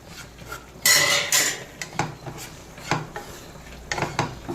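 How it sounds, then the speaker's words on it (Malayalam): Coriander and chili powder roast in a pan while a utensil scrapes and clatters loudly against the metal, giving bursts of stirring with a light sizzle underneath. "അപ്പോൾ നമുക്ക് മല്ലിയും മുളകും കൂടി വറക്കാം"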